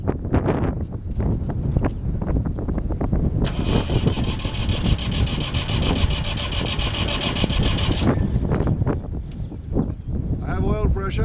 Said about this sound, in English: I'm going to crank it to get the oil pressure up before I let it start.